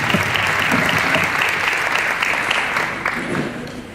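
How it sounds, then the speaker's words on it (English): Sustained applause from an audience at a community MLK breakfast, a dense even wash of clapping that tapers slightly toward the end. "Please give them another round of applause."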